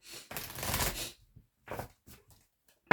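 A deck of tarot cards is shuffled and cut close up: one long riffling burst, then shorter separate flicks and taps of cards, with a sharp snap at the very end.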